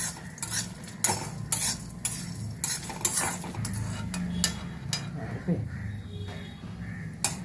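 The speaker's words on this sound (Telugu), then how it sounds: "మాడకుండా కొంచెం కలర్ మారినంత వరకు వేయించాలి" Metal spoon scraping and stirring dry red chillies roasting in a pan with a little oil, with repeated clinks and a faint sizzle underneath, close by.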